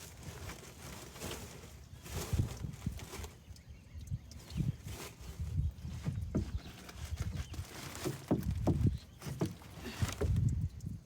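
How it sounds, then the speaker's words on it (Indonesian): A boat on Lake Toba during a fishing catch sale in the middle of the lake, with irregular splashing, knocking and water sloshing close by, rising and falling over about eleven seconds with no talk. "kapal agen kah itu?"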